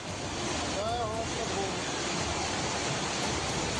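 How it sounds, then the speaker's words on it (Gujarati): Rainwater gushing continuously down the Girnar stone stairs during a heavy downpour, a dense, even roar of rushing water with a wind-like hiss, steady and unbroken throughout. "ગિરનારની સીડીઓ પરથી સતત પાણી વહી રહ્યું છે"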